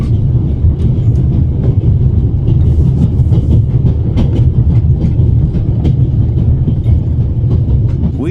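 A train runs along the railroad in The Raven: Legacy of a Master Thief, a loud steady rumble of rolling wheels with faint rhythmic clicks throughout, no talk.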